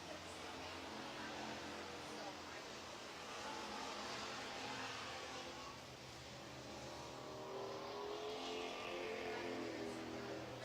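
Pure stock race cars roar around Red River Co-op Speedway in a continuous, rather distant engine drone that swells and fades slightly as cars pass, with faint voices beneath.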